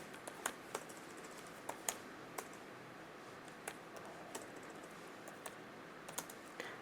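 Light, scattered keystrokes on a computer keyboard while code is typed for a data science product-category classification model, faint and irregular clicks over a quiet room hiss.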